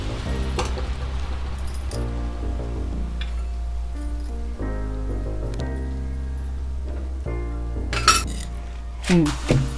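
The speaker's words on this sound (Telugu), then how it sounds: "ఎండుమిరపకాయలు వేసుకున్నానండి, దంచుకుంటున్నాం." Dry red chillies and mint for pudina pachadi are pounded in a stone mortar, with scraping and grinding throughout and a few sharp, louder strikes near the end.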